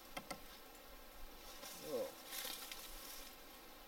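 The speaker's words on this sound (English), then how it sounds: "There sure is a crap ton of bees. They're not wasps, they're bees." Buzzing of bees swarming around a nest near a bushcraft camp lean-to in the woods, faint and continuous at a distance, with a brief exclamation from a person.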